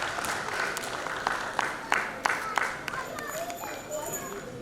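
A crowd claps steadily at a 75th Corps Day Diamond Jubilee celebration, the sustained applause fading slightly toward the end as a voice speaks over the audience.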